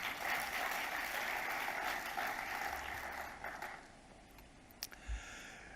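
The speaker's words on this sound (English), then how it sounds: "Huge round of applause, ladies and gentlemen." An audience at a ceremony honouring the Tokyo Olympic hockey teams in Odisha applauds in a dense, sustained patter that fades toward the end, with a few scattered louder claps.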